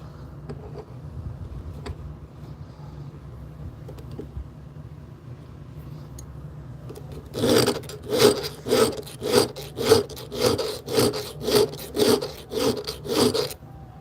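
A hand file rasps against a workpiece at a workbench, about a dozen steady back-and-forth strokes in a regular rhythm, close and fairly loud, following a quieter stretch of low background hum.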